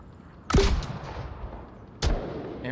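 Gunfire in the VR shooter Onward during a competitive match, with two sharp shots about a second and a half apart over a low background rumble.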